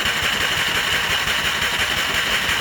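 The starter cranks a 2013 Polaris RZR 800 engine with its spark plugs removed, giving a steady, close, continuous whirring drone with no firing, heard alone.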